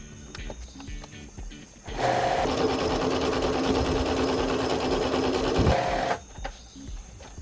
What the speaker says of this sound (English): The Bernina is just here, the zigzag stitch is still installed, so let's just do that real quick